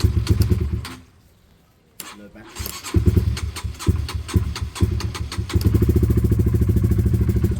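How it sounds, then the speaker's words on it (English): A Honda CBR 125 motorcycle engine cranks, stalls briefly, then fires and settles into a loud, close, steady putter at idle, with a voice speaking over it. "let's fire it up so that it can warm up for a bit"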